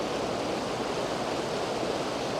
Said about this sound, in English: Just found this lovely cascade down here.